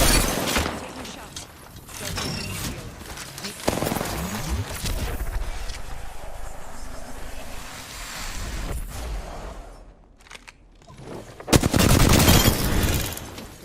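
Loud bursts of Apex Legends gunfire crackle up close, with repeated automatic shots and brief lulls, mixed with game effects and speech.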